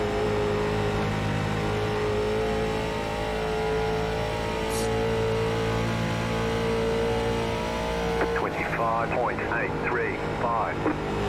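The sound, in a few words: late model race car engine at Rockingham, iRacing video game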